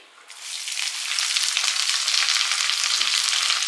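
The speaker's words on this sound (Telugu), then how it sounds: "చిన్న ఆనియన్స్ వేసిన తర్వాత ఇవి కలర్ చేంజ్ అయ్యే వరకు మనం ఫ్రై చేసుకోవాలి" Finely chopped small onions hit hot oil with mustard and fenugreek seeds for an Andhra fish curry, the sizzle swelling quickly into a loud, dense, continuous frying hiss up close.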